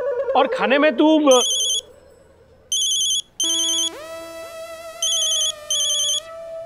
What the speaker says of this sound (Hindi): चालू फोन में घंटी बजती है